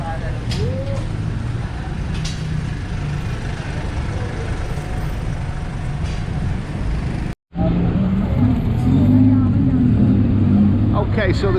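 Busy road traffic in Chinatown, Bangkok, heard as a dense, steady roar of engines close by with brief cooing birds, continuing after a momentary cut, with no talk over it.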